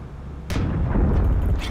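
A heavy cannon fires once in the Steel Aces aerial combat game, a sharp loud blast followed by a rumbling tail under the ongoing engine and battle noise.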